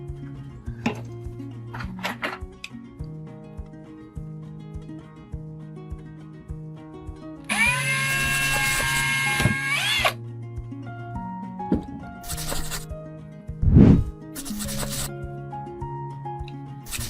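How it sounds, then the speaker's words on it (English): A power drill bores through a small piece of scrap wood in a short, loud whirring burst, with clunks and handling knocks of tools on a table before and after. "I'm going to have to get a drill bit and a drill to do that."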